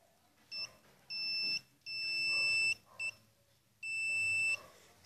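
Several electronic beeps from a metal detector pinpointer sound close by, some short and some held for about a second, spaced irregularly with quiet handling noise between them.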